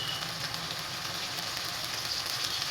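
Steady crackling sizzle of cumin and coriander powder frying in hot oil, close and fairly quiet, continuous with no talking.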